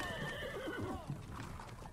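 A horse whinnies in a wavering, rising-and-falling cry as it falls from a cliff edge in a Mexican horror legend, close and fairly loud over a low rumbling bed, with a faint clatter near the end.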